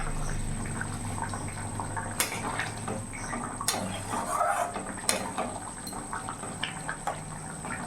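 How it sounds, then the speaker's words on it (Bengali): Pot of rohu fish and taro curry bubbling at a steady boil over a medium gas flame, a soft continuous simmer with scattered clinks, no talking. "ভালো করে ফুটে গেছে"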